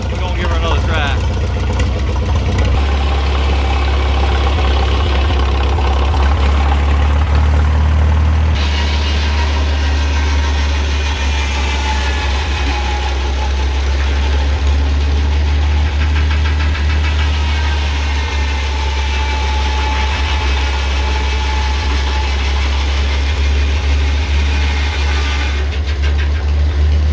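Sawmill engine running steadily after its slipping belt was refitted, a loud continuous low drone with a knocking edge that holds for the whole stretch while voices talk over it.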